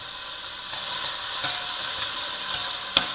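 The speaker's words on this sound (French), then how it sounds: "on fait revenir des oignons" Onions sautéing gently in a heated pan for spaghetti bolognese, a steady close sizzle with a few faint stirring clicks, no voices.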